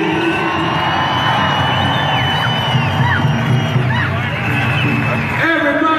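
A large crowd at a Denver March Pow Wow grand entry roars and cheers in a dense, continuous wall of voices and whoops, loud and sustained throughout.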